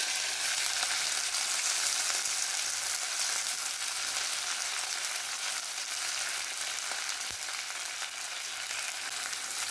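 Drumstick (moringa) leaves sautéing in a pan for a Kerala curry make a continuous bright sizzle, close and even, with one brief knock near the end.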